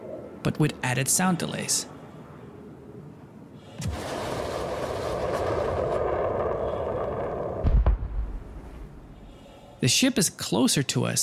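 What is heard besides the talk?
missile fired and exploding with delayed sound, Star Citizen video game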